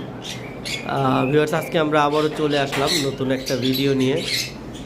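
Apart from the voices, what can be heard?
semi-adult sun conures squawking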